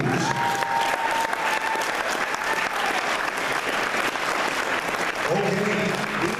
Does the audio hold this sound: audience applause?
yes